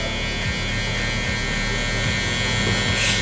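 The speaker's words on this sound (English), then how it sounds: "we're gonna just rub the trimmer into that" Electric hair trimmer buzzing steadily and loud up close while rubbing into bald stubble during a drop fade haircut, a continuous electric hum with faint periodic low thumps as the blade moves.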